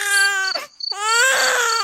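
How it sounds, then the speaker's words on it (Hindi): A small baby cries loudly in two long wailing bursts with a short pause between them, a sound effect in a Hindi moral story set on a nearly deserted road. "अरे ये किसके बच्चे की रोने की आवाज है?"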